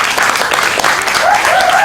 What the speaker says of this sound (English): we're going to get a big round of applause for Laura,